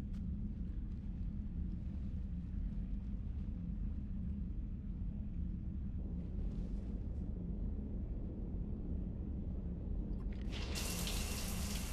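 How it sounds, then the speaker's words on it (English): Steady running shower water in Mass Effect 3, a continuous broadband hiss over a low rumble that stays even throughout, with a brighter, louder surge of spray near the end. "I figured you'd be more interested in a shower."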